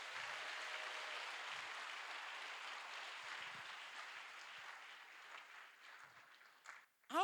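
A congregation applauds during a sermon, a faint, distant wash of clapping held steady before tapering off, with a brief sharper sound at the very end.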